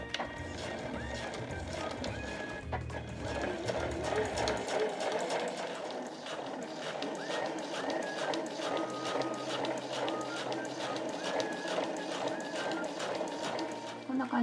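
Domestic sewing machine stitching a curved seam on a small round frilled drawstring fabric pouch, a steady rapid mechanical whir running throughout with brief pauses, close and moderately loud.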